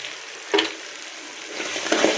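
Kuzhambu masala frying and being stirred in a pan, a steady close sizzle with two brief scraping stirs of the spoon against the pan.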